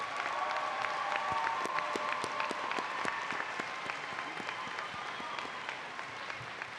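Sustained applause from a large audience at a high school commencement ceremony, greeting cum laude graduates as they stand, with dense steady clapping and scattered sharper individual claps throughout, a faint voice briefly audible underneath.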